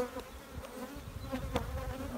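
Honeybees buzz at a hive. The close, steady insect hum has scattered individual wingbeats flaring louder now and then.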